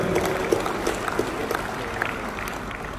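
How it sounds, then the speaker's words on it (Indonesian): A convention hall audience at a national APTISI gathering in Bali claps for the Governor of Bali, steady crowd applause with scattered sharper claps, fairly close. "Kita tepuk tangan bersama buat beliau."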